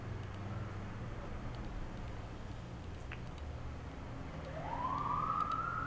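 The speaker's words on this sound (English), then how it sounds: "sorry about the sirens" An emergency siren swells in near the end in the New York area, a rising wail cutting over a low background rumble after several seconds of quiet street noise.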